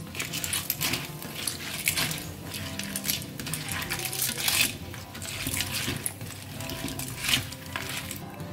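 Clams curry with salt being stirred in a pot for Goan-style tisreo curry, a steady run of clinking, scraping spoon-on-metal taps and wet shifting sounds, close and fairly quiet, with no talking.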